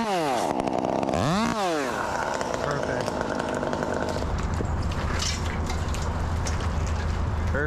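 A chainsaw cuts through a bigleaf maple at close range. The engine revs up and down in rising and falling sweeps, then settles into a loud, sustained cutting drone. A voice is heard briefly over the saw.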